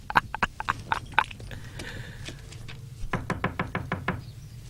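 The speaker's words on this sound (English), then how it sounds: "Knock, knock." Two bursts of sharp knocks, a quick run of about eight raps, then a pause with faint low rumble, then another run of about seven raps, close and distinct.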